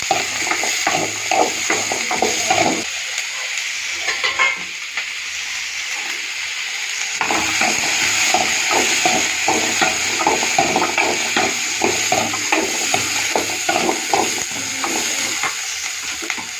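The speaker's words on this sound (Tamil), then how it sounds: "கருவேப்பிலை, தக்காளி. நல்லா வதக்கணும்." Curry leaves and tomato sauté in hot oil with ginger for a mutton curry, a constant loud sizzle under repeated scraping strokes of a spatula stirring the pan, with a brief lull partway through.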